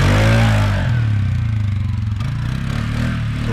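A Polaris Sportsman 450 ATV fitted with an Epi clutch kit revs up and pulls away on takeoff, its engine note rising and then sliding down in a steady near drone.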